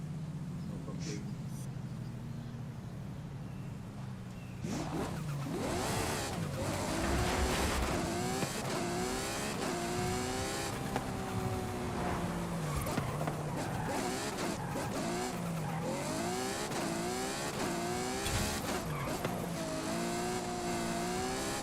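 A car engine in Forza Horizon 5 idles low, then revs hard and climbs through gears with rising whine and shifts, loud and continuous, while a person talks over it.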